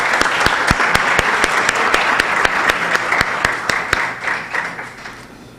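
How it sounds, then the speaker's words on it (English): An audience at an Invent for the Planet event applauds a presenting team: steady, dense clapping from a sizable crowd, loud at first and gradually thinning and fading toward the end. "round of applause."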